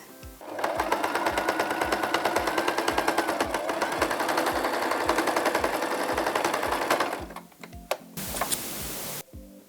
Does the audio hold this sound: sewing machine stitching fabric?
yes